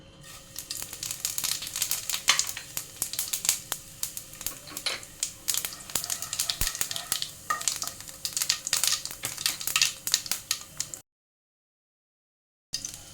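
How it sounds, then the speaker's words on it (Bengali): Whole cumin seeds with two dried red chillies crackle and sizzle in hot oil for palak paneer, a dense, steady crackling with frequent sharp pops and stirring, then a short silence before the sizzle returns. "জিরেটা 10 থেকে 15 সেকেন্ড আমি ভেজে নিয়েছি।"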